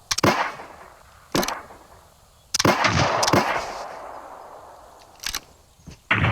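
Video game gunfire during a raid bursts out in several sharp, loud volleys separated by short pauses, some rattling like automatic fire, with no talking.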